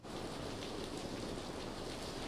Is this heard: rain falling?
yes